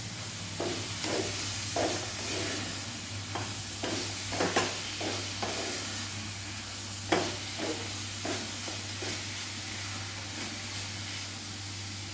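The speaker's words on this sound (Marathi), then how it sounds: "आणि अजून थोडंसं तूप मी घालणार आहे पुन्हा एकदा हे एकजीव करायचं आहे" Coconut burfi mixture stirred with ghee in a pan, a soft steady sizzle with repeated gentle scraping strokes of the spoon at an irregular rhythm, all fairly quiet over a constant low hum.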